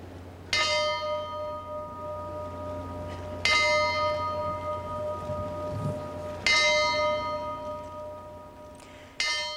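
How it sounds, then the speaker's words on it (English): A memorial bell tolls at Johnson Space Center, four clear, ringing strikes spaced roughly three seconds apart, each with a long shimmering decay over a low ambient hum. "At the Johnson Space Center today, a bell tolled for each of Columbia's 7 lost astronauts."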